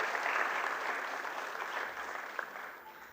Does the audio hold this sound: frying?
no